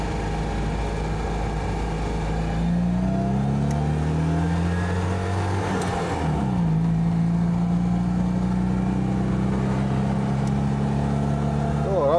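A Citroën 2CV engine drones and strains uphill while overtaking a tractor, its pitch climbing and dipping as it labours, with occasional speech over the engine noise.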